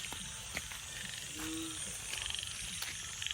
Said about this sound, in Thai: แต่มีเสียงกบร้องนะตรงนี้